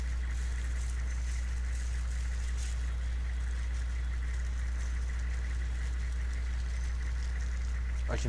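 A Humvee engine idling in the video game Arma Reforger, a steady low rumbling drone that holds at an even level throughout with no talking.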